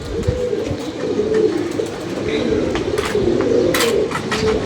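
Pigeons coo steadily in a low, throaty rumble close by, overlapping calls running throughout while someone talks over them.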